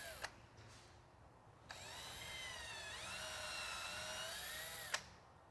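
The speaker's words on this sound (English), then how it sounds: "we're going to drill that with the proper size drill bit" A power drill with a 3/16 drill bit boring a hole in a boat transom for mounting a Lenco trim tab bracket, one steady whining run of about three seconds with its pitch dipping under load, close and alone.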